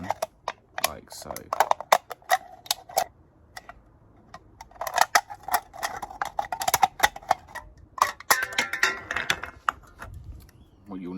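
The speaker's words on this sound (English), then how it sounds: "And you just want to cut around the can like so." Someone cuts around an aluminium drink can to make an alcohol hobo stove, producing a run of quick, dry ticking and scraping clicks in irregular bursts under occasional talk.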